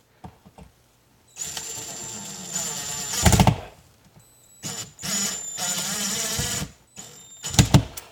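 A power drill drives screws into garage sheetrock to mount an A-zone IP security camera, whirring in several bursts of varying length separated by short pauses.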